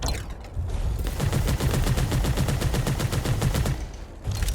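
A rapid-fire gun blazes in the Bounty Star video game, a steady fast train of loud shots running for about three seconds after a short lead-in, then stopping.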